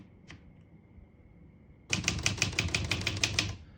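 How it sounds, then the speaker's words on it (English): A 1969 Olivetti Lettera 32 portable typewriter clacks through a quick burst of about a dozen crisp keystrokes after a lone tap and a quiet pause, close and loud with nobody speaking. "all the keys type nice and none of them skip or stick"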